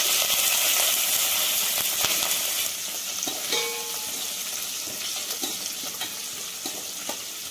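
Cumin seeds, cashews, curry leaves and green chillies frying in hot oil, a loud steady sizzle that drops down a notch partway through, with light spoon scrapes and clinks as they are stirred.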